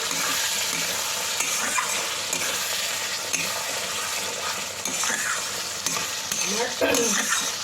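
Homemade garam masala being stirred into mutton korma in a pan, giving a steady close sizzle with repeated scraping and stirring strokes throughout and occasional soft clinks of utensil on pot.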